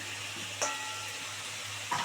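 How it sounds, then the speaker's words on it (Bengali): Spice masala with green chilli and Kashmiri red chilli sizzles steadily in a pan while being cooked down for a katla and jackfruit curry, with two brief clinks of stirring. "এবার এটাকে সুন্দর করে কষাবো"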